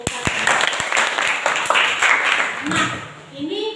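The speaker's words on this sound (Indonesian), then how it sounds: "berikan tepuk tangan." A class claps steadily for a few seconds, then the applause fades as voices and chatter take over.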